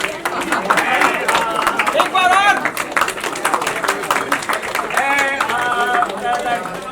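A crowd at a celebrity book launch with cake cutting claps in quick, uneven bursts while several voices talk and call out over it close by.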